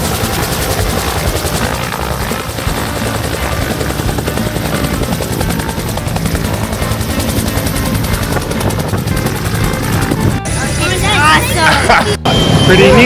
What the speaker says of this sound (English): What is it, a chopper?